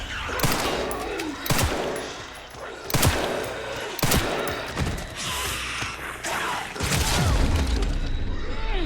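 Gunfire in Resident Evil Requiem: a series of loud, sharp shots cracking out at uneven intervals, some in quick bursts, over a dense, busy game soundscape of clattering mechanisms and rumbling impacts.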